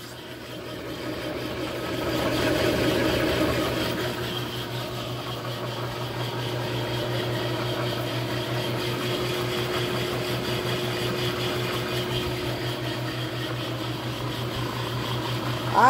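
Marine engine with a Velvet Drive V-drive transmission running steadily at idle, a low droning hum with a constant tone, briefly swelling louder early on before settling into an even rumble with no talk.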